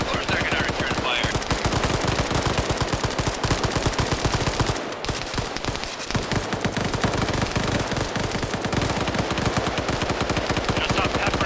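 Sustained automatic gunfire in a military shooter video game firefight, loud dense rattling bursts that run almost without a break, with a brief dip midway and no talk over it.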